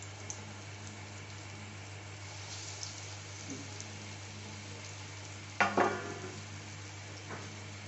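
Vegetable chops fry in oil with a quiet, steady sizzle over a low electrical hum, with a brief sharper crackling burst partway through.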